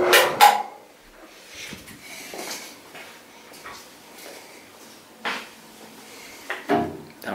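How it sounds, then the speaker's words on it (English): Double swinging doors in a resort villa suite are pushed open and let swing shut, giving a few soft knocks and thumps spread apart by quiet room tone. "Double swinging door."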